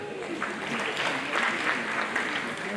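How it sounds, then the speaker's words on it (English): An audience at an academic ceremony claps through a full round of applause, dense and continuous, steady in volume from start to finish, with no talking over it. "Please let's encourage them by giving them a round of applause."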